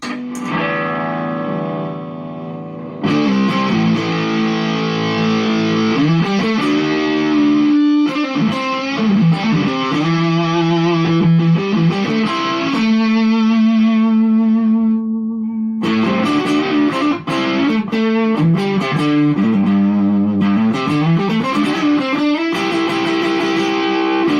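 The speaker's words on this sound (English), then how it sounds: "for kind of fuzzier bluesy tones, we use the fuzzer." Electric guitar through a fuzz pedal with thick fuzz distortion, playing bluesy bends and sustained notes after a brief quieter intro, loud and continuous.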